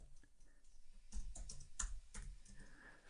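Quiet typing on a computer keyboard in a home setup, a loose run of soft key clicks with a few firmer taps, faint and close with no talking.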